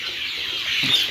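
Egyptian Fayoumi chickens at a poultry farm, a short burst of soft clucking and chirping over steady background noise, with no talking.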